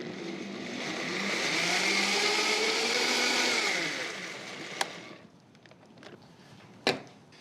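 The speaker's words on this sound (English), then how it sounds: "then we're just gonna blend this just till we combine it" A blender whirs through batter with milk and a pinch of salt, a loud steady motor whine rising then fading out after about four seconds, followed by a couple of sharp knocks.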